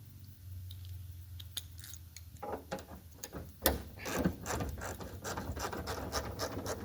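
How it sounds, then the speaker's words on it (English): Ratchet wrench working on an F600 truck: quick bursts of clicking pawl ratcheting with scrapes and clanks, close by and irregular in rhythm. "Might be a ratchet wrench ordeal."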